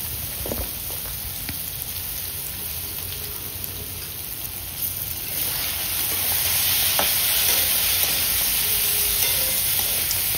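Marinated soya chunks fry with spices in a hot pan, a steady close sizzle with occasional stirring scrapes, growing louder partway through, with no talking.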